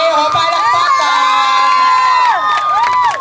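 At a 2011 grand champion contest, a crowd cheers loudly with high, sustained shouts and whoops, including children's voices, the screams rising and falling in overlapping waves.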